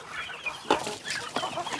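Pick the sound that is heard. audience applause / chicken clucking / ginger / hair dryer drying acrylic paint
chicken clucking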